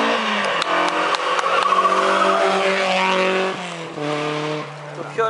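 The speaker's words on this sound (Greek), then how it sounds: "Το πιο ωραίο αμάξι πέρασε." A car passes with a steady, buzzing engine drone that sweeps downward in pitch as it goes by, with a brief tyre squeal; voices murmur in the background.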